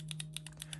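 Quick, quiet clicks of key presses on a Drop x OLKB Preonic mechanical keyboard, about seven light taps in fast, slightly irregular succession, close up.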